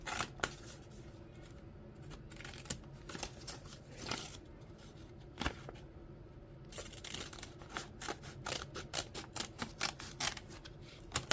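Scissors snip through paper to cut out a paper dragon puppet base, a quiet series of crisp, irregular clicks and cuts that grow quicker and denser toward the end, with no talking.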